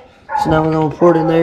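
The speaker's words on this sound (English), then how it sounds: "It's our coon dog baying at freaking" A coon dog bays outdoors in two drawn-out, tonal howls, carried clearly over a nearby voice speaking at the same time.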